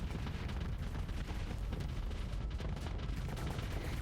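Hellbore cannons fire in a space fleet battle in the Starsector video game, a dense, continuous barrage of heavy booming shots with rapid rumbling impacts at a steady loud level.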